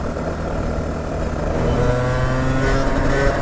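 Competition racing kart engine running flat out at over 100 km/h, a loud close buzzing drone that rises steadily in pitch as it climbs through the revs.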